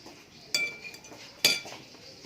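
Instant noodles being mixed in a bowl: two distinct clinks of a utensil against the bowl, with faint scraping between them, close and quiet.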